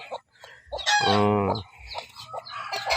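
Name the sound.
chickens clucking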